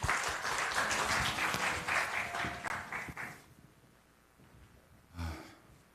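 An audience claps for about three seconds, then the applause fades out, leaving quiet room noise and a brief low thump.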